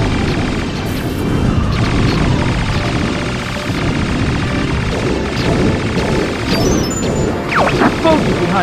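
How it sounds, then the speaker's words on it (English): Explosions burst in the Star Fox 64 video game, heavy crashing booms and blasts repeating amid game effects, with character voices speaking over them. "Explosion behind me."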